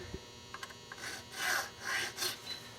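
A jeweler's file works a guitar nut slot in short, quiet rasping strokes, a few faint scrapes followed by three longer swelling passes, close up with no talk.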